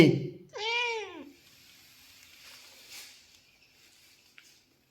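A cat gives one loud, drawn-out meow close by, then the room falls mostly quiet with faint rustling.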